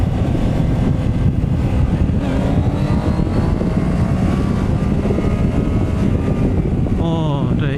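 A ZONTES 703F motorcycle pulls away gently in Eco mode, its engine note rising smoothly under heavy wind roar, with a voice speaking over it.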